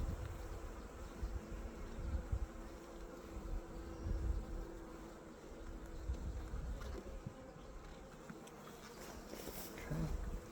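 Calm honey bees buzz around an opened hive, a faint continuous drone of many wings with no pauses, steady from start to end without talk.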